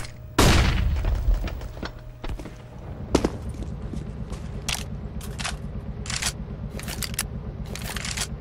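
Grenade blast in Counter-Strike: Global Offensive, a loud boom near the start with a low rumbling tail, followed by scattered gunfire cracks and clicks over a steady game background.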